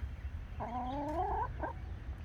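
A chicken gives one drawn-out cluck followed by a short second one, close by against quiet outdoor background noise.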